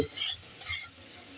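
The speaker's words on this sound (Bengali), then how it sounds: "এটা একটু ভাজা ভাজা হোক মশলা থেকে আমাদের সুন্দর গন্ধ বেরিয়ে এসছে" Spices frying in a pan for a ridge gourd and matar dal recipe, two short bursts of stirring and sizzle a moment apart, faint and close, with quiet gaps between.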